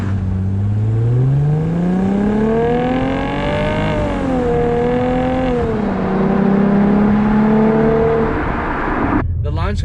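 A Mercedes-Benz C300 W204 in sport mode launching from a stop sign, its engine note climbing steeply through the gears with a shift near four seconds, loud and close, with a voice talking over it.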